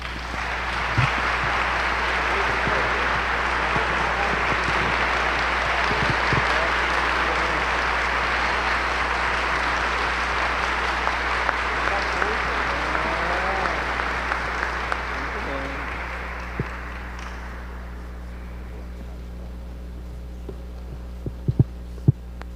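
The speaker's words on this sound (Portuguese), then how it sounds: "Então, para ele, mais uma vez, uma salva de palmas." A congregation applauds inside a cathedral during a Mass for the dead, dense clapping sustained for over fifteen seconds over a low steady hum, then thinning out to a few scattered claps.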